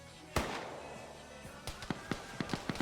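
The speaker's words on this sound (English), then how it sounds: "And return fire coming in." Gunfire rings out in an Arma 3 night-raid match. A single sharp report is followed after a pause by a rapid string of distant shots with a moderate, uneven rhythm.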